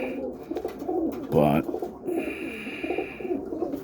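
Kit pigeons coo in soft, throaty bursts close by, with one louder coo standing out among steady cooing while someone speaks briefly.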